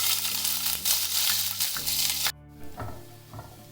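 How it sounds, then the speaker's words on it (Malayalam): Half a teaspoon of garlic and a small green chili fry in oil in a wok, giving a loud, close crackling sizzle that abruptly drops away partway through, then returns more quietly with a few stirring scrapes. "ഇനി നമുക്ക് ഒരു ചീനച്ചട്ടിയിൽ കുറച്ച് ഓയിൽ ഒഴിച്ചിട്ടുണ്ട്. അതിലേക്ക് നമുക്ക് ഒരു 1/2 ടീസ്പൂൺ വെളുത്തുള്ളിയും ഒരു ചെറിയ പച്ചമുളകും ഇട്ട് കൊടുക്കാം."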